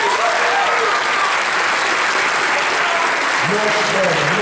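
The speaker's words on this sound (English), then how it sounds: "let's give Brandon a hand for real" A high school assembly audience claps and cheers loudly in a gymnasium-style space, a dense sustained ovation with crowd voices and whoops rising through it.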